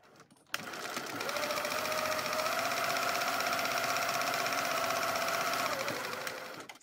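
A sewing machine runs one steady, continuous burst of about five seconds, top stitching a small slip pocket on a handbag, with a quiet start and stop and no talking.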